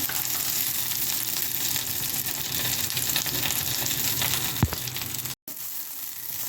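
Tamarind and garlic pieces frying in a hot pan, a loud, continuous sizzle with a few faint stirring clinks throughout.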